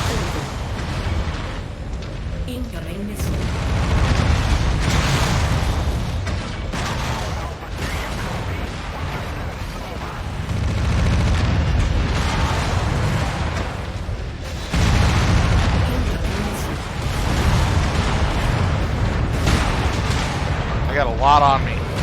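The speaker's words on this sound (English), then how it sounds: "Incoming missile." Missile impacts and explosions in the mech combat game MechWarrior 5, with heavy booming blasts and gunfire rolling through the whole stretch, mostly continuous and loud, with short radio-style voice lines cutting in.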